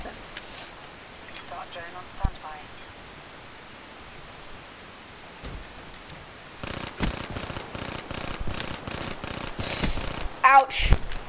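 Submachine gun fire in a video game: quiet at first, then dense bursts of rapid shots through the second half, with a faint voice in the background.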